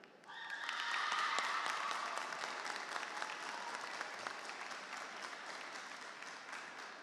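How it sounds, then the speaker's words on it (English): A crowded audience at a 2024 high school commencement ceremony for the Lincoln-West School of Global Studies bursts into loud, sustained applause that swells quickly and then holds steady, a dense wash of clapping. "I want you to give your village a round of applause"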